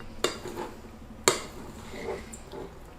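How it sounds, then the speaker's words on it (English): A spoon clinks twice against a bowl while nuts, chocolate and honey are mixed for a waffle roll filling, with soft stirring and squishing in between, close and quiet, with no voices. "So while adding the honey, mix the nuts and the chocolate with it."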